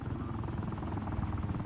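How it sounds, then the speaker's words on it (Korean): Helicopter rotor drone in Arma 3, a steady low chopping hum that holds at an even level throughout, with no voices over it. "헬기 소리네?"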